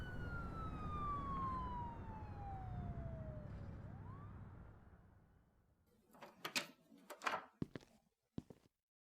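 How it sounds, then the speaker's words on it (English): A police siren in an audio drama wails loudly, its pitch sweeping down as it passes over a rumbling engine, then gives way to clattering knocks and bumps. "the sound of police sirens approaches the area"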